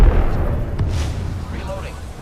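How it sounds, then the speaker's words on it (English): A grenade blows up in Apex Legends: a heavy, rumbling blast at the start that slowly fades into a low, lingering roar. "Grenade flung. Grenade flung."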